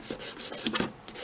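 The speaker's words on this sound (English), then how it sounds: "So I rough this up a bit with some sanding paper" Sandpaper rubs briskly back and forth over a wooden photo frame to roughen it. The scratchy, rhythmic strokes are close and alone.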